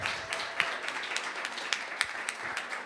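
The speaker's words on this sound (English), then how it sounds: "Let's give her a big round of applause." A small audience applauds an award honoree at a women's awards ceremony, with brief, light, fairly distant clapping and a few sharper individual claps.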